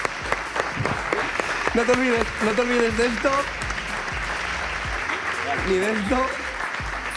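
An audience applauds an interview guest, steady clapping running throughout beneath voices talking over it.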